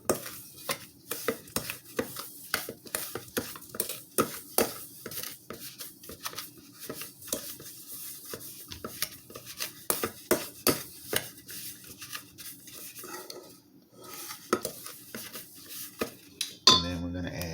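Butter and sugar being mixed by hand for chocolate chip cookie dough: a close, irregular run of scraping and soft knocks of a utensil against a bowl, with no talking.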